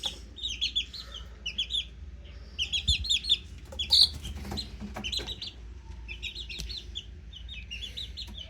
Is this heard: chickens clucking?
yes